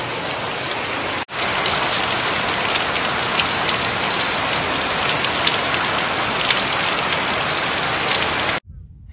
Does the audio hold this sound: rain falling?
yes